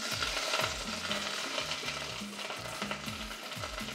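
A spoon stirs chopped vegetables and tomato paste in oil in a pot for stewed beans, with steady sizzling and rhythmic scraping strokes close up, no voices over it.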